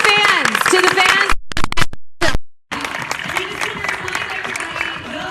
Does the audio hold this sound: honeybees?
no